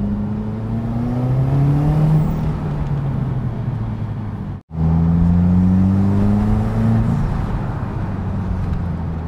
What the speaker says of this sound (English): you can definitely hear that whoosh as that turbo spools up with our new turbo inlet